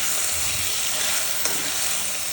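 Onion frying in oil in a pan, giving a loud, steady, close-up sizzle that hisses evenly throughout, with a small stir or knock partway in and no talk.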